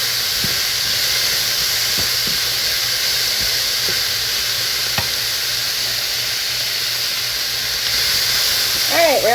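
Pork searing in a hot pan for a stir fry gives a loud, continuous close hiss and sizzle, with a few light clicks and scrapes and a bit of talk over it.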